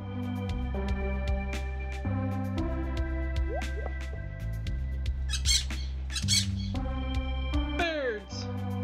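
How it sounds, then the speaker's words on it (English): Cartoonish birds squawk in the farming game Stardew Valley, several quick bursts around the middle and a final falling cry, mixed into steady background music. "Birds!"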